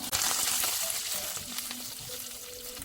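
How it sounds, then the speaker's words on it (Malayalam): Ginger, garlic and curry leaves fry in hot oil in a pan for a cabbage thoran, giving a loud, steady sizzle up close while a utensil scrapes and stirs through them. "നന്നായി ഒന്ന് ഇളക്കി കൊടുക്കാം."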